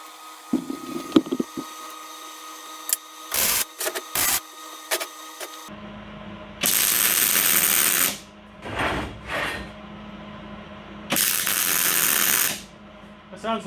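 A MIG welder joins steel for a chassis table, with two sustained harsh, crackling buzzes of a few seconds each separated by short clicks and shuffling, alongside quieter handling noise.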